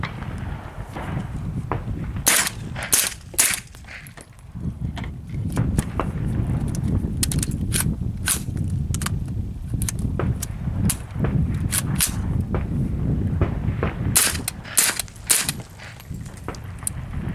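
Sharp 9mm carbine gunshots from a D3-9SD firing Hornady 147-grain +P hollow points ring out in irregular bursts over a steady low rumble, some shots spaced apart and others in quick clusters, loud and close.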